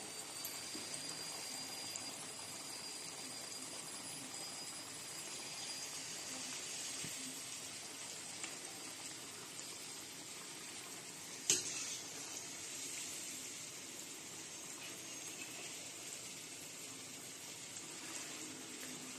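Shankarpali sweet dough snacks frying in oil over a lowered gas flame, giving a steady soft sizzle and bubbling hiss throughout, with one brief sharp clink partway through and no talking.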